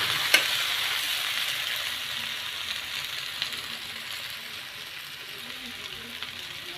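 Taro and meat sautéing in a pot give off a steady, close sizzle with faint stirring scrapes throughout, plus a single sharp utensil tap near the start, and no one speaks.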